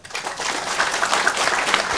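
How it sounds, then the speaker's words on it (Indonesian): A crowd applauds steadily, a dense patter of many hands clapping with no talking over it. "tepuk tangan untuk dia."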